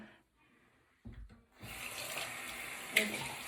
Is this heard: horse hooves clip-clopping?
no